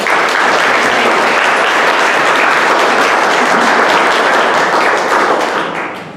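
A community tour crowd gives the church hosts a round of applause, full, sustained clapping that fades out toward the end.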